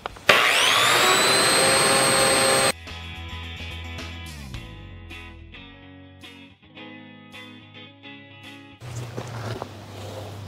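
A rotary brush stripping rust from a car body grinds with a loud, harsh whine for a few seconds, then stops, leaving quieter tool and workshop noises.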